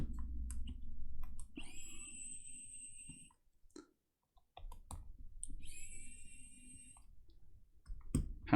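Small screws being undone on an Acer Aspire A315 laptop with broken hinges, with the LCD panel attached: soft close clicks and faint metallic ticks in two bursts, broken by a short quiet pause.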